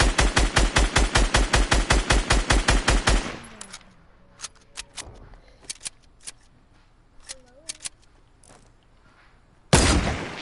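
Video game gunfire: a rapid burst of about twenty evenly spaced, loud automatic shots, then a few scattered clicks and shots, and a final loud burst at the end, with a little talk in the gaps.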